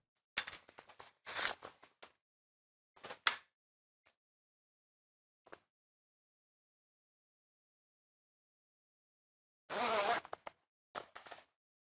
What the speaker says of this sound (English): Next, zip up the middle pocket of the Bimini canvas.